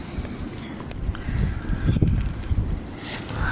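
Strong autumn wind blows outdoors at a fishing spot, a steady low rumble of gusts buffeting the microphone with a stronger surge midway, no voices over it.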